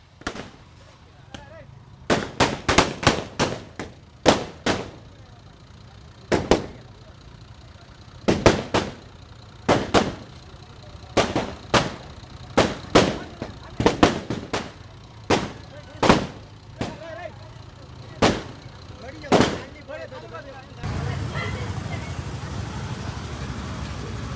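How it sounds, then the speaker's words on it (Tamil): Firecrackers burst at a goat procession festival: many sharp, loud bangs at irregular intervals over a steady crowd and street background. The bangs give way to a denser wash of crowd noise at the end. "இங்கே பாருங்க வெடியெல்லாம்"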